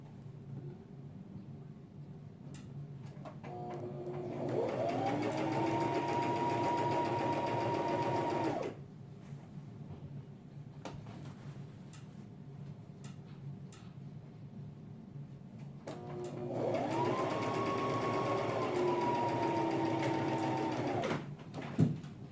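Sewing machine runs in two steady bursts while stitching a straight waistband seam on a vintage skirt being enlarged, with a quiet pause between runs.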